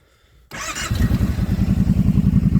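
A Kawasaki Brute Force 750 ATV with its stock muffler cranks and fires up, then settles into a loud, close, steady idle with an even rhythmic thump.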